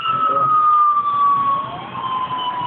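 A loud fire engine siren wailing steadily, close by, at a construction site crane collapse, with a slowly falling tone over a rumbling engine.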